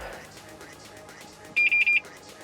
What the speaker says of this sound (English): this beep beep beep is because I have only one seg remaining